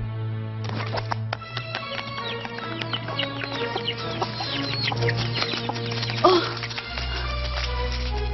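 Chicks peep and cluck repeatedly in a cartoon over a steady musical drone, the chirps close and fairly loud, with a few louder calls near the end.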